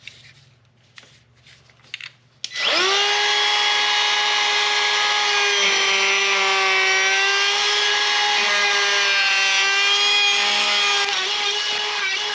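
A handheld router with a round-over bit whines loudly and steadily at close range, starting after a few quiet clicks and running continuously as it eases the edges of wood.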